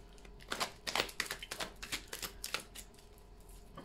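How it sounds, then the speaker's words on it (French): Amethyst Love oracle cards being shuffled by hand, a close burst of quick riffling flicks and soft slaps over about three seconds, then quieting, with no talk. "on va prendre quelques petites cartes de l'Améthyste Love"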